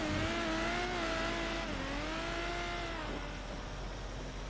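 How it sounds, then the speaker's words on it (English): A car engine in the role-play game NoPixel revs loudly and steadily, its pitch rising and falling in smooth sweeps, close by with no talking. "That car is so loud."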